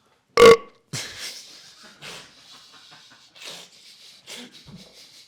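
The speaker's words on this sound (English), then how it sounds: "I keep burping on the mic as well" A loud, close burp blasts into a microphone at the start, followed by quieter rustling and muffled movement noises.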